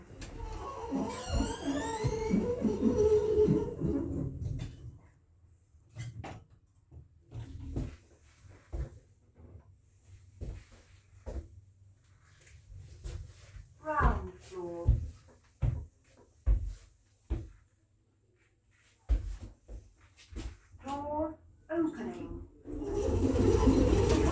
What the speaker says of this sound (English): Doors opening. Doors closing.